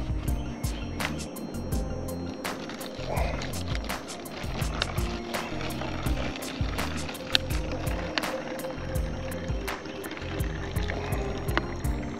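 Liquid poured steadily from a container, with a continuous trickling, splashing flow lasting several seconds under a constant low hum, with no talk.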